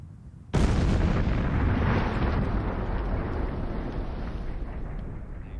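Twenty huge mines packed with explosives detonate almost at once on a First World War battlefield, a sudden massive boom that swells into a loud, sustained roaring rumble lasting several seconds.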